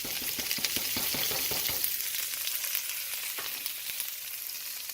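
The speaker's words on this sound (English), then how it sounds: "put them into a wok that has some olive oil on high heat and let it cook" Mushrooms, onions, peppers and jalapenos fry in olive oil in a wok on high heat, a close, steady sizzle with quick rattling tosses early on that settle into an even crackle.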